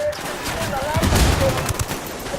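Dense bursts of rapid gunfire from a firefight in the video game Ghost Recon Wildlands, loud and close, with shouting voices mixed in and the heaviest volley around the middle.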